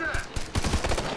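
Several quick gunshot bursts crack out in the Tom Clancy's Ghost Recon: Future Soldier co-op video game, uneven sharp reports over a short stretch, fairly quiet in the mix.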